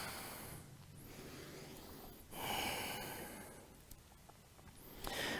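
Close, steady breathing from a person in a yoga session, slow inhales and exhales spread across a few seconds, soft and unhurried, with no talking.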